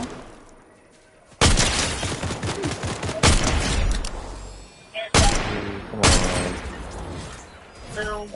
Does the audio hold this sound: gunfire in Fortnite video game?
yes